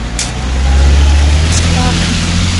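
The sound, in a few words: car passing by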